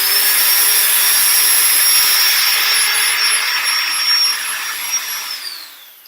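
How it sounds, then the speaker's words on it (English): A power drill bores into material during a science experiment, making smoke, with a loud, steady high-pitched whine that runs continuously before winding down and fading near the end. "And I'm going to start drilling things."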